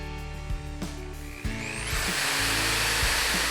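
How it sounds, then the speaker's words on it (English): Hammer drill boring into a masonry wall to hang hooks: a loud, close motor whine that starts and stops in short bursts, then ramps up into a sustained, gritty grinding roar as the bit bites in. "These hammer drills are really loud."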